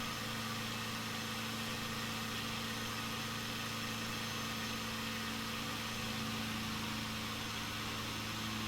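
The Icon A5 seaplane engine in Microsoft Flight Simulator 2020 hums as the throttle is pulled back, a steady, faint drone with low tonal bands and no obvious change in pitch.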